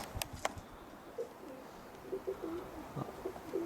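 Roller pigeons cooing softly at close range, a series of low, throaty coos in short repeated phrases, with a few sharp knocks and faint outdoor ambience underneath and no voices.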